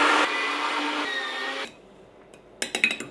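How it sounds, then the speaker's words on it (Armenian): A meat grinder churning frozen oranges, a steady whirring motor grind that runs loud and then cuts off, followed by a few sharp clattering knocks. "Ու աղում ենք մսաղացով։"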